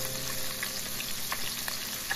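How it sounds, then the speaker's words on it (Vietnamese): Minced garlic and shallots frying in oil in a pan give a steady close sizzle with small pops and crackles throughout, with no talk. "mình cho một ít dầu. Rồi mình cho vào đây một ít tỏi băm với lại là hành tím băm"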